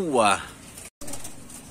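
A racing pigeon arriving from Antipolo gives a short rising coo right at the start, close and fairly clear, followed by soft background noise broken by a brief moment of silence.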